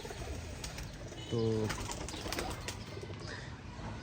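A bought pigeon bursts into a brief, loud flutter of wings in the middle of the clip, with a short coo-like call. Someone speaks quietly around it in an outdoor setting.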